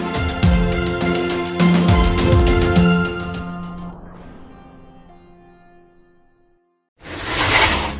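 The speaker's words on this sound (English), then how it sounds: "That's the sound of a cooler coming down off the shelf." Music fades into near silence, then a single brief, loud scraping rush as a cooler is pulled down off a shelf.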